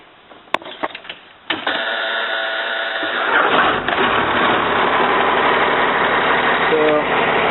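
A TC2000 machine's engine cranks and catches after a few clicks, then settles into a steady, loud idle that runs on alone without anyone talking.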